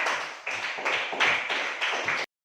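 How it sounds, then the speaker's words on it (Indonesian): A small group claps for Najla in a classroom, several brisk rounds of hands in quick succession before cutting off abruptly. "beri tepuk tangan untuk Najla"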